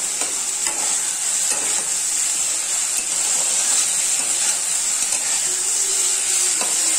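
Food frying in a pan with the gas turned up while it browns to a reddish color, giving a loud, steady, close sizzle that continues unbroken throughout, with faint occasional stirring clicks.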